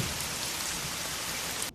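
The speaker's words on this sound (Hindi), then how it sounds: "बहुत तेज की बारिश के साथ साथ आंधी भी चल रही थी।" Heavy rain pours steadily through a storm, a dense continuous hiss with gusting wind, constant and close, ending abruptly.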